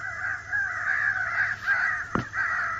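Crow calls from an electronic caller, a drawn-out, repeated harsh cawing that continues steadily outdoors with one short sharp knock near the end.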